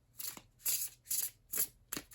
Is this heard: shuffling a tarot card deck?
yes